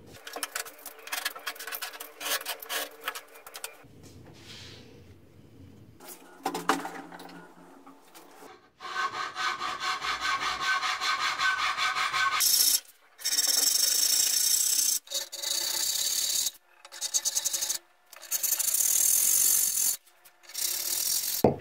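Hand sanding of wood with a sheet of sandpaper, close and fairly loud: quiet handling and scraping at first, then a run of steady rasping strokes in repeated bursts with short pauses between them.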